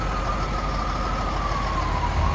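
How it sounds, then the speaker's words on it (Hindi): Fire engines answering a large blaze near Victoria Park Avenue, with a steady wailing siren held loud over heavy traffic rumble on a city road as the trucks draw near. "अब देखें आवाज़ आ रही है और फायर ब्रिगेड की गाड़ियाँ भी आ रही हैं"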